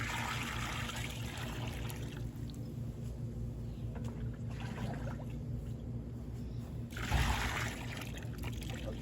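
Water trickles and pours into a mixing bucket while a pesticide mix is prepared, a faint, uneven splashing stream that surges briefly near the end against a quiet room background.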